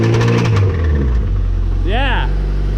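The engine of a repaired station wagon runs at a steady low idle, rumbling close and loud throughout. A voice talks over it.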